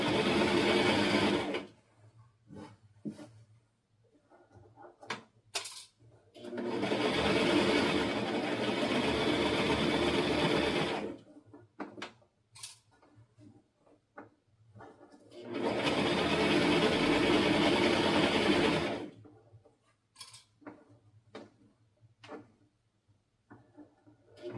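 Sewing machine running back stitch in two long steady bursts of whirring, separated by quiet gaps filled with small clicks and handling noises, close and loud while running, no voices.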